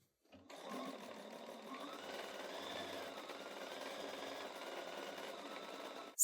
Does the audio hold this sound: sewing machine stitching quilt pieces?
yes